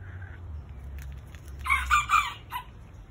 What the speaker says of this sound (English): Fusion, what a good job you're doing of herding those birds.